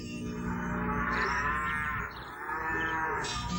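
A cow in an animated Super Mario Bros. cartoon lets out one long, loud, close moo lasting several seconds, heard on its own without speech.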